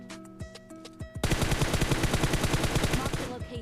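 Rapid automatic gunfire bursts in a fast, steady stream after a few scattered single shots, loud and close, with game sound effects underneath.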